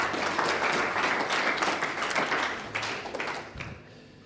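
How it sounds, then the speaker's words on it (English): Audience applause for Colin Boyce at an energy forum on renewables: steady, dense clapping from a crowd that holds for several seconds and then thins out toward the end. "Please, another round of applause for Colin Boyce."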